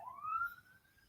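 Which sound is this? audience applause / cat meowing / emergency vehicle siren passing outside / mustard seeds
emergency vehicle siren passing outside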